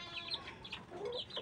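Chickens cluck in short, soft, scattered bursts close by on a small backyard farm, with no talk.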